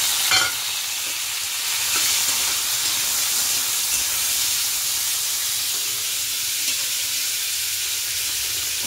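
Washed vegetables tipped into hot oil seasoned with black cumin, a loud steady sizzle and hiss of frying that starts with a sharp burst and carries on evenly throughout, with no talking.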